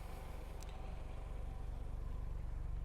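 A 2026 Dacia Sandero Stepway engine idling at night, a steady low pulsing hum heard close by, with a brief faint click partway through and no talking.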